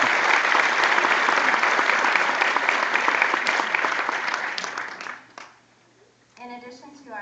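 Graduation ceremony audience applauding loudly with dense, sustained clapping for about five seconds before it fades out, followed by a voice speaking.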